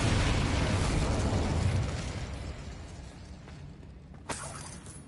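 A magical Confringo blast in a fantasy wizarding game erupts as a loud, broad explosion that rumbles and slowly fades, followed by a sharp smaller pop near the end.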